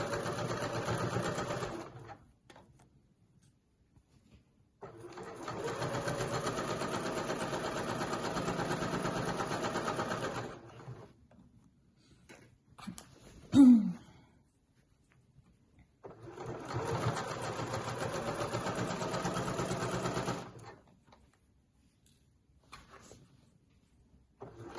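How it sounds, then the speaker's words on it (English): Sewing machine stitching around the edge of a pack-away shopping bag, running in three long steady whirring bursts separated by quiet pauses, with a short clunk of handling in between. "I've just sewn all the way around there"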